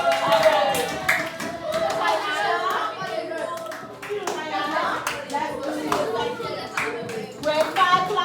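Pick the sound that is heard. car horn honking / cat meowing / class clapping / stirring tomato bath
class clapping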